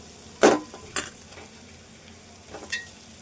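Eggs frying in a pan with softened onions for a Telangana egg dish give a soft sizzle, broken by a few clinks and scrapes of a utensil stirring against the pan.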